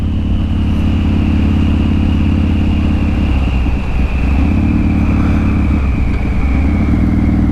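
A motorcycle cruises steadily on a highway at night with no traffic, its engine drone loud and continuous with heavy wind rush throughout, no talking.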